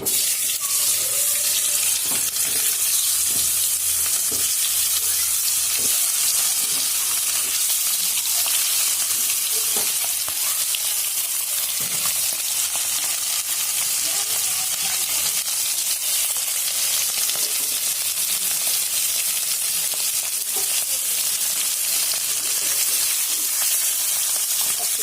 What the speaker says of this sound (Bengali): তেল দিয়ে দিয়েছি, তেলটা গরম হয়ে গেছে। এবার আমি হচ্ছে ডিমগুলোকে ছাড়বো।